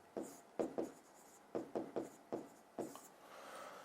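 Chalk or marker writing on a classroom board during a physics lesson: a series of short, rhythmic scratchy strokes in small groups, clear and close, then softer rubbing at the end.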